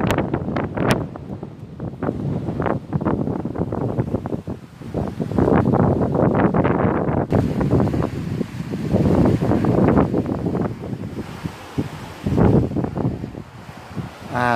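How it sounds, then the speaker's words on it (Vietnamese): Strong, gusting wind roars across a cold Buddhist pagoda courtyard, buffeting the microphone in heavy surges with brief lulls, steady and loud throughout with no talking. "Các bạn thấy gió thổi ghê không?"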